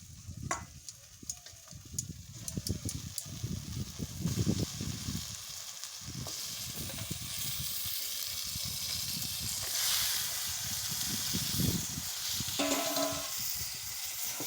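Marinated chicken hits hot oil with turmeric and spices in a pan and sizzles steadily and loudly, while a spoon stirs and scrapes through it.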